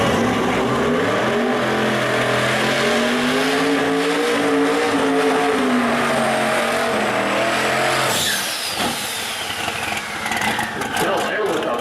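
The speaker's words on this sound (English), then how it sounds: "Bill there with a beautiful smoky burnout, burning down the way" A drag racing car at the East Coast Pro Street Nationals roars through a loud, smoky burnout, engine howling with screeching tire squeal that shifts abruptly near the end, while an announcer talks over it.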